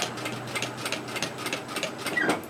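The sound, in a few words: sewing machine stitching a line along a tote bag top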